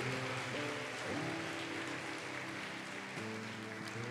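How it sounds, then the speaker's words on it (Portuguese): A church congregation applauds softly in a continuous wash of clapping beneath sustained keyboard chords, with the sound kept distant and fairly quiet. "Você pode aplaudir o Senhor por isso"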